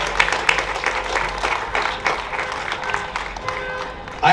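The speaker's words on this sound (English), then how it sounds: "So please give the Palestinian American Community Center a round of applause." Crowd applause for a Palestinian American Community Center at a Paterson Palestinian flag-raising, a dense continuous wash of many hands clapping that holds steady throughout, with a few louder bursts and a sharper rise at the very end.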